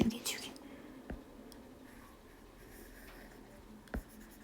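A rubber eraser scrubbing out pencil writing on paper, quiet close scratchy rubbing with a couple of light taps, under a soft murmuring voice.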